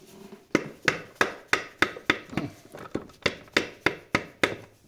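A rubber mallet pounds a stuck wheel bearing on a Suzuki Swift 1.3 4x4, about fourteen sharp, evenly spaced dull blows struck close up in a steady rhythm, each with a short ringing decay, with no talking.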